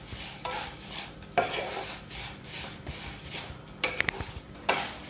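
Vermicelli fries in a pan for Kerala semiya payasam while a spoon stirs it, making repeated scraping strokes over a soft sizzle, with a few sharp metallic clinks near the end.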